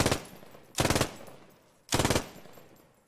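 Three short, loud bursts of machine-gun fire from a mounted MG in a World War II-style video game, each a rapid rattle of shots with a brief decaying echo, spaced about a second apart, with no voices.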